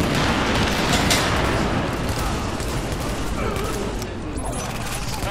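Sustained gunfire rattles through a firefight in The Division, dense overlapping shots and bursts running continuously at high volume from start to finish.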